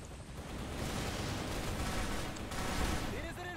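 Sustained gunfire from an Arctic Combat video game session, aimed at a helicopter, rattles as a dense, continuous fusillade with booming impacts, loud and unbroken throughout.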